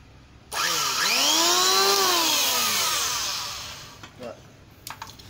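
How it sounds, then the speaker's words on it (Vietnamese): A 100V electric hand planer starts up and cuts across wood, its motor whine rising and sweeping in pitch through a loud, sustained planing pass before spinning down, followed by a few light knocks. "Này là cái tiếng bào cực chuẩn luôn ha."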